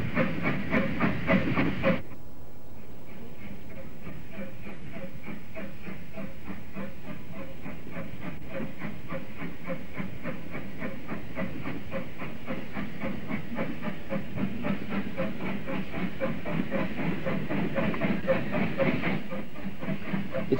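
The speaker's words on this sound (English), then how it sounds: "the first Bluebell train would arrive on the line" Bluebell Railway steam locomotive Stepney pulling in, a steady hiss of steam over a rhythmic clatter of carriages that runs the whole way, close and fairly loud after a brief louder rumble at the start.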